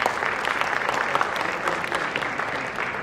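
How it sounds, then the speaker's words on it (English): An audience at a business keynote on pricing applauds steadily, a continuous wash of many hands clapping at moderate volume from start to finish. "give me a round of applause."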